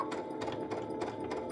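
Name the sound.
Baby Lock Unity sewing machine sewing corded pintucks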